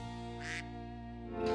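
Baby ducks in a rice-farming setting give a couple of short, nasal quacks, near and moderately loud over a steady tonal hum in the background.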